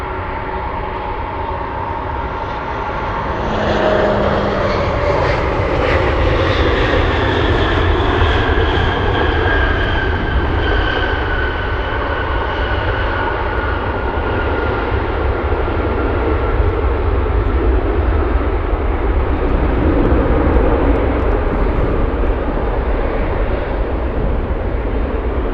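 An Alaska Airlines plane arriving from SeaTac at Anchorage airport in gusty winds, its engine roar building after a few seconds into a loud, steady, sustained rumble with a whining tone that slowly falls.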